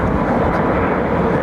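An Embraer E2 jet airliner at London Heathrow passes as a steady, loud broadband roar that fills the whole short span with even engine rush and no clear peaks.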